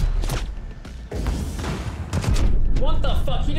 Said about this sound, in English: He just straight up bum rushed me with a shotgun.